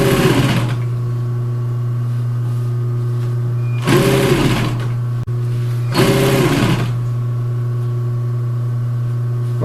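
Sewing machine stitching upholstery fabric for a wing chair cushion, running in three loud sustained bursts with steady motor hum between and behind them.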